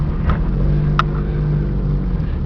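1997 Jeep Cherokee Laredo 4x4 with a six-cylinder engine driving around a corner, a steady low engine drone close by with a couple of faint squeaky clicks, no talking.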